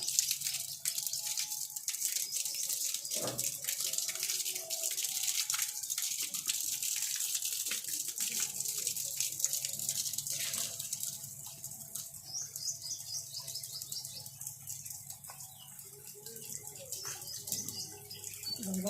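Water poured and splashing steadily while a small child is bathed, a continuous wash of running water close by, with faint birdsong in the background.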